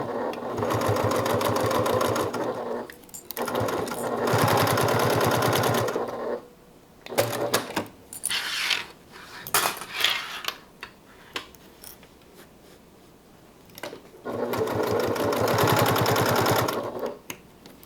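A sewing machine bastes the side seams of a handmade bag shut, running in steady rhythmic bursts of stitching separated by pauses filled with quieter handling and small clicks, close and loud.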